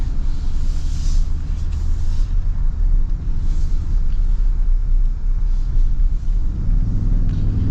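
A 2026 Toyota Tundra Limited non-hybrid pickup engine pulls under acceleration with a loud, steady low rumble heard from inside the cab, the tone thickening slightly near the end with no talk.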